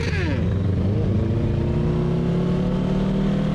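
A 2020 Kawasaki Ninja 650 motorcycle weaves slowly between people at a bike night, its mid-pitched engine droning steadily and close by, with the revs dipping and rising a little at the start.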